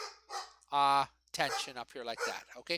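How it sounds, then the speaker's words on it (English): A pet dog at home barks in a short, loud burst during a live physics lecture, heard close by between stretches of a man's speech. "If you hear my dog barking,"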